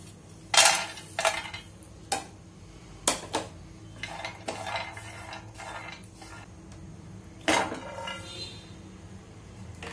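Cashews and pistachios dry-roast in a pan, stirred with a spoon: intermittent metallic clanks and scrapes come in several sharp bursts over a quiet background, with no talking.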